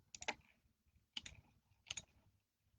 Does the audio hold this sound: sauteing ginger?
no